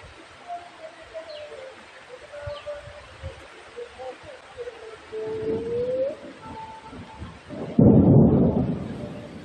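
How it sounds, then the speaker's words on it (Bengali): Thunder rumbles low and heavy across the sky, building late into a loud, close roll, while birds call and coo faintly in the background. "নিশ্চয়ই শুনতে পারতেছেন আকাশের গর্জন"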